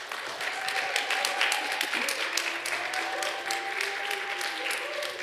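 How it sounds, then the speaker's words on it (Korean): A church audience at a revival service applauds steadily for several seconds, a dense, even clapping that fills the room, with a voice heard faintly beneath it. "우리 이무현 목사님을 우리 박수로 맞이하겠습니다."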